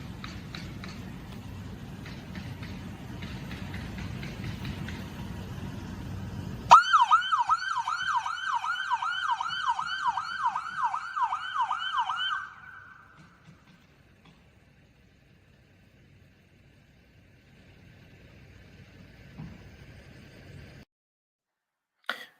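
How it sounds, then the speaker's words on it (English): An emergency vehicle's yelp siren sounds at a residential property gate used for testing, a rapid rising-and-falling wail that starts abruptly after a steady engine rumble, cuts off, and leaves faint distant siren and quiet afterward. "The gate should open from the yelp siren from the time they turn off of Cert Mill Road and enter onto the property"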